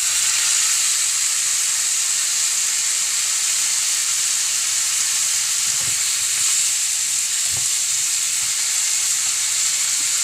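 Tomatoes sizzle and fry in a pan for shakshuka, a steady bright hiss filling the whole stretch, with a few soft knocks and no voices.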